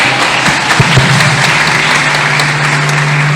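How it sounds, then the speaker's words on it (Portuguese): Congregation applauding Jesus at a Pentecostal church conference: loud, continuous clapping from a large crowd, steady and close, over a sustained low droning tone. "Aplaude a Jesus pela vida do candelabro."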